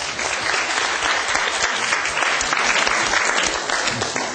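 Classroom applause from students cheering on a classmate's physics question, a dense, steady clapping that fills the room for several seconds without talk.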